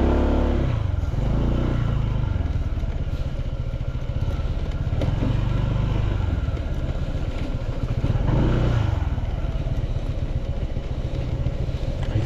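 A motorcycle rides along a road toward a lake near Manito, Albay, in Bicol, its engine a loud, steady rumble that rises and falls with throttle changes throughout, with no talking.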